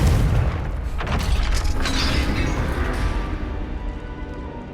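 A Confringo fire spell from Hogwarts Legacy bursts with a heavy boom right at the start, followed by a crackling, rumbling decay and scattered mechanical rattles that fade over several seconds.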